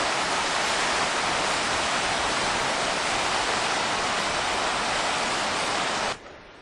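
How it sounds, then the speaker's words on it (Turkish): Rushing water of the Kaçkar mountain stream pours in a dense, steady roar, then drops off abruptly near the end. "Kaskar Deresi'ne bir görüntü."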